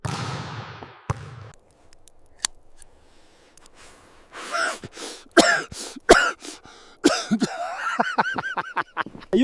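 A person learning to smoke a cigarette coughs, gasps and breathes heavily up close, building into a run of rapid, harsh hacking coughs toward the end.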